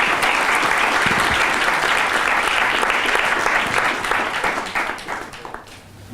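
Loud, sustained applause from an audience at a round-table panel discussion on the legal profession, dense clapping filling the room and tapering slightly at the end.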